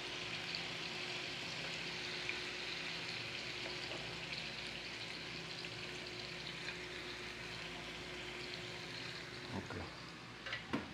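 Garlic sizzles steadily in a pan just after fish sauce goes in, a continuous close frying hiss with a low hum beneath and a few utensil clinks near the end, cooking the base for tinola with bottle gourd.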